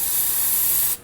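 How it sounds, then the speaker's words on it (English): A short steady hiss of brake parts cleaner sprayed into the threads of an inner tie rod on a 2011-2016 Kia Optima, loud and close, cutting off abruptly near the end. "use some brake parts cleaner"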